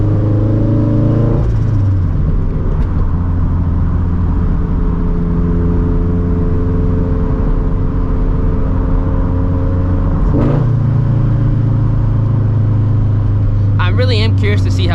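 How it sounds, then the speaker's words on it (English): A 400 hp turbocharged Subaru FRS holds a steady loud engine drone, dropping in pitch at a gear shift around two seconds and again near ten, with sharp crackles near the end; someone talks over it. "It's popping like every shift."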